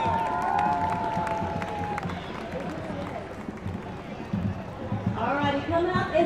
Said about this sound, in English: round of applause for the Korean Garden